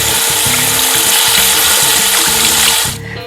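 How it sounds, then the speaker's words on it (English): Water poured steadily into a pot of browned beef with red wine and beef broth, a continuous close splashing stream for about three seconds that stops abruptly near the end. "I'm just adding a little bit of water."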